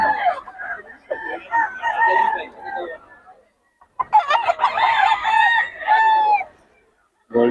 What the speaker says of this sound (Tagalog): Maganda naman yung manok ni Boss Hapon.